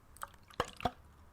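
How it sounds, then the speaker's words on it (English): A water bottle is shaken and turned over up close in a hushed ASMR setting, giving a few soft, brief sloshes and drips within about a second, with no voice. "I'm going to start by moving the water bottle"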